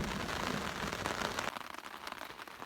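Pouring rain drums hard and steady on a tent in the Canadian wilderness during a thunderstorm, loud and dense at first and then easing to a lighter patter.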